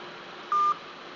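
A single short telephone keypad tone beeps once as a number is dialed to call home, clear above a steady background hiss.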